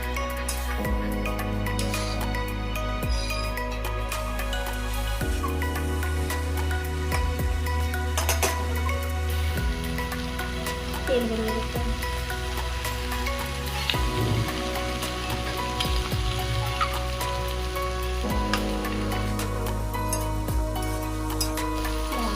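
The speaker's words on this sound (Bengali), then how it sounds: "এবার একটু নেড়ে চেড়ে মাংসগুলি দিয়ে দেব এবং ভালো করে কষাতে থাকবো" Chicken meat sautés in a pan with turmeric and salt, a continuous crackling sizzle with scattered pops and stirring, running under steady tonal background sounds.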